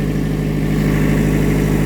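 A tractor engine runs steadily at around 2,000 RPM, a loud, close, even diesel drone with a low throbbing pulse and no talk over it.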